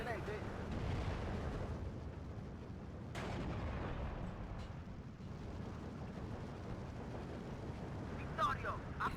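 Artillery shots booming in the strategy game Steel Division 2, several heavy blasts rolling out over continuous battle rumble at moderate level, with voices talking over the action.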